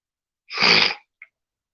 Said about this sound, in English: got me sneezing like crazy